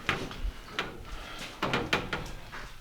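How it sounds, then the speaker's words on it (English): The door of a 1955 Chevy gasser is opened up close, a series of metallic clunks and latch rattles with creaking and a final thump, no voices. "So let me open the door here."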